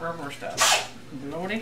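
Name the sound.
sneeze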